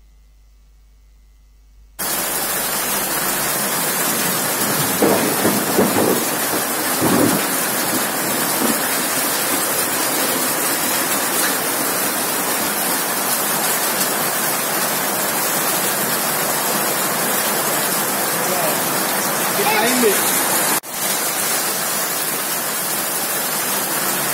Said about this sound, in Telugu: నిర్మల్ జిల్లాలోని కడెం మండలంలో రాళ్లతో కూడిన భారీ వర్షం కురిసింది